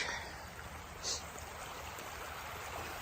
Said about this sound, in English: but there's the creek